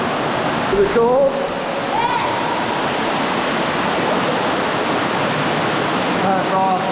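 Intense waterfalls pour inside a cave during a strong storm. They make a dense, unbroken roar of rushing water that is loud and steady throughout, with brief voices heard over it.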